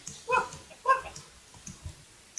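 A dog barks twice in the background, a pair of short yips spaced about half a second apart, followed by faint clicking and low thuds.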